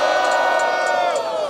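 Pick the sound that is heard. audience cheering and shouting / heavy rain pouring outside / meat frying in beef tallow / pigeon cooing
audience cheering and shouting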